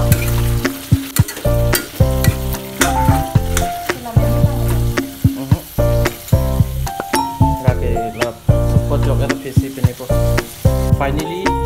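Ginger, garlic and chili paste sizzle and fry steadily in a pan for a pork intestine dish, with repeated stirring scrapes and occasional clinks of a utensil throughout.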